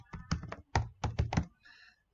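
Quick computer-keyboard typing of an email address into a sign-up form, a short burst of close, crisp key taps in uneven rhythm, ending with a faint softer tail.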